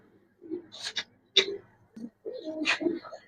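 Colored pigeons offered for sale coo in a few scattered, uneven calls, mixed with sharp clicks and gaps of near silence, heard close by.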